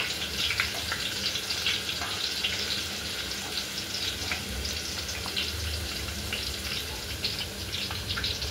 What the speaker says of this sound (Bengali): এই যে এবার আলুটা ভেজে নিচ্ছি তরকারির জন্য